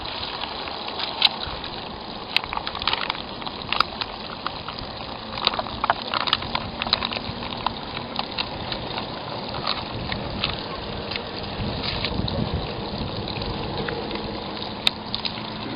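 Water drains from the end of a black AquaDam perimeter tube used as a water anchor for a hurricane roof tarp, making a steady, close gushing rush that runs throughout with small splashy peaks.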